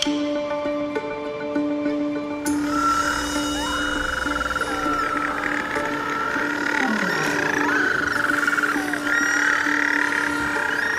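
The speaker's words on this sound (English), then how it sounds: "the night soon fills with the calls of returning adults" Seabirds returning to their nesting colony at night on the Tasmanian coast, a dense chorus of overlapping calls and droning cries that swells and fills the air continuously, with tonal hoots beneath.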